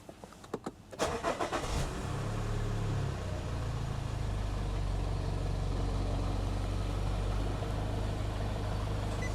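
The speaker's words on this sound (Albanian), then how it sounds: "provojmë të ndezi makinën." A Nissan Murano is started after a DPF fault is cleared. A few clicks come first, then the engine cranks and catches, settling into a steady, close idle that runs on with no talk.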